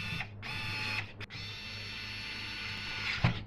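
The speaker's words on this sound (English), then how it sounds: "I'm just going to put in a couple of screws just to hold the radiator in place." Screws driven in by power driver to secure a radiator during installation of a Thermalright Aqua Elite AIO liquid cooler, a steady close whirring drone with brief pauses and a sharper knock near the end, no talk.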